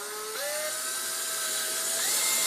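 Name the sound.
drilling hole in helmet with 7/32 drill bit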